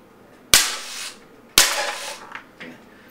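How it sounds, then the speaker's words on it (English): A steel BB machine gun fires two single shots outdoors at a range, each a loud sharp crack followed by a short fading tail, about a second apart, with a fainter knock after them and no talking. "I'm going to shoot in single."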